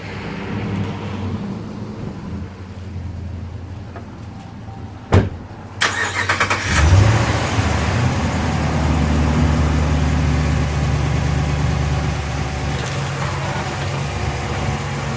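A 2013 RAM 1500 Express truck cranks and its engine catches with a sharp start, briefly revs, then settles into a steady, loud, close idle.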